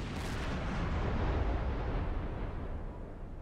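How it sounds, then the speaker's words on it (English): Deck gun on a U-boat in the game Patrols of U-96 fires a heavy boom that rolls into a long, loud, noisy rumble and slowly fades, with no talking. "Just kind of casually sailing down the channel, firing the deck gun"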